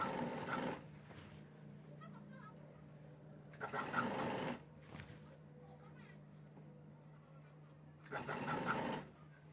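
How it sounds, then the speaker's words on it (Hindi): Sewing machine stitching a permanent seam joining a shirt sleeve to the shoulder line, heard in three loud bursts of rapid stitching separated by quieter pauses, with a steady low hum throughout. "इधर की तरफ से अपनी पक्की सिलाई लगा लेनी है"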